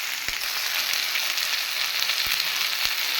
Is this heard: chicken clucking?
no